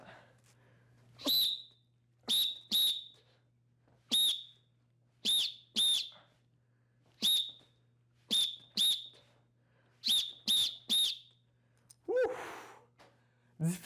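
A series of sharp, shrill whistle blasts during a karate class, about a dozen short blows at irregular intervals over a steady low hum, ending with a breathy rush.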